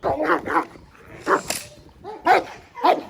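A dog barks repeatedly at close range, a series of sharp yips and barks spaced irregularly, with some whining and muffled voices in between.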